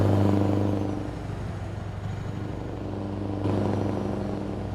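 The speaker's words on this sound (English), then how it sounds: "even the traffic on the road and the truck on the road sounds like it's traveling past you now" Truck engine rumble and passing road traffic in Euro Truck Simulator 2, heard from an exterior view, a steady low drone with vehicles swelling past.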